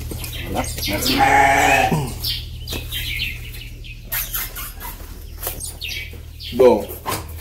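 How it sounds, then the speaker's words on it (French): Sheep bleating inside a barn, a loud wavering bleat near the start followed by fainter scattered bleats and a sharper call near the end, over a steady low hum. "Bon, à l'intérieur, comme vous pouvez bien le constater, nous avons des moutons."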